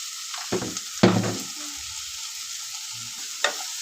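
Mung bean curry frying with sambar masala powder, salt and chili, sizzling quietly while a spatula strikes and scrapes the pan in a few loud, uneven strokes, close up and without speech.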